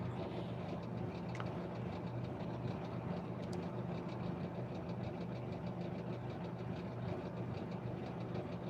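A car engine runs steadily throughout, a continuous low rumble with a faint rhythmic knock, close and unbroken with no talk over it.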